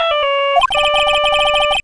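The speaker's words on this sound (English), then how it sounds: "I bet it was this ringtone that caused it." A phone ringtone from the video game Phoenix Wright: Ace Attorney sounds loudly, a few sustained electronic tones, then a rapid repeating chirping melody of short beeps.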